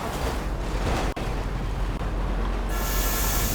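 Train passing in the video game GTA 5: a dense, steady roar that fills the whole clip, heard up close, with a brief dropout midway and a brighter hiss near the end.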